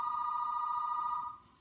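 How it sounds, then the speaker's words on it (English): An office telephone rings with a steady electronic tone that holds for over a second before cutting off, moderately loud against a quiet room, with no one speaking. "now and then you might hear the phone ring"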